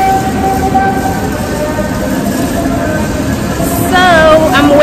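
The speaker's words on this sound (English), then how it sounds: "Oh, the train is here." A New York City subway train pulls into the station, with a loud steady rumble and tonal whine that rises into squealing brakes near the end, with faint talk underneath.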